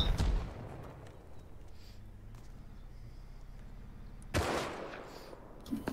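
Semi-automatic gunfire in the survival game Rust: a sharp crack at the start and another loud burst near the end, with a faint rumbling backdrop between and no talk.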